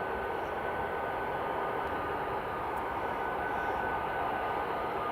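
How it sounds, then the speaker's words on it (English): A WestJet airliner taxiing at Edinburgh Airport gives a steady, distant engine rumble and whine, constant in level with no talk over it. "it is WestJet just taxiing there"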